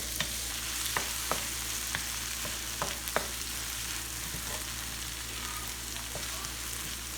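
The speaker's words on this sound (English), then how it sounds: "So I'm just gonna saute my onions and my tomatoes until they're very, very soft." Onions and tomatoes sautéing in a wok for a Haitian vegan legume: a steady, soft sizzle of frying with occasional sharp clicks of a utensil stirring against the pan, no voices.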